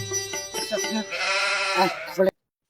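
A goat at an Eid livestock market bleats several times in quick, wavering calls, close and fairly loud, with people talking around it before it cuts off.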